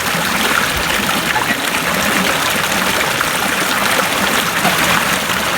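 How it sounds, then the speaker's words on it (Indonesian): Water pours steadily from a spout beside rice paddies, a continuous close, loud splashing stream with no pauses and no voices. "Nah, pancurannya. Pancuran atuh."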